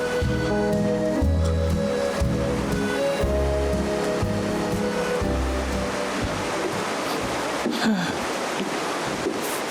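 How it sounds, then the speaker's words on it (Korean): Steady roaring rush of falling water fills the whole stretch, loud and continuous, with low rumbling beneath and no voices. "폭포 소리가 들리고 있습니다."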